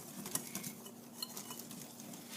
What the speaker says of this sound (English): I'm going to pour that into the powdered sugar. And I'm going to whisk this to combine.